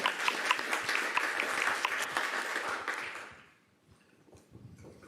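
Applause at a college honors awards ceremony holds dense and even for roughly three seconds, then fades out to near quiet.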